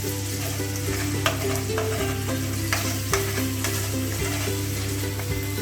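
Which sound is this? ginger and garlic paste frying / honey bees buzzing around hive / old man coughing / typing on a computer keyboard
ginger and garlic paste frying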